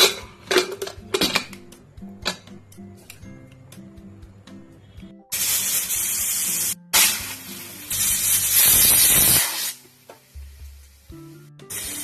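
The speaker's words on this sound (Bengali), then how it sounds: "দুটো সিটি দিয়ে দিলাম বন্ধুরা।" Pressure cooker whistling while mutton curry cooks: after some clinking of pots and utensils, two loud hissing whistles sound in succession, the second longer, followed by quieter kitchen clatter.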